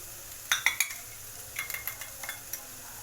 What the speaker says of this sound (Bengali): তো ম্যাগি মশলা দিয়ে সেম প্রসেসে আমি একটু নেড়ে নিলাম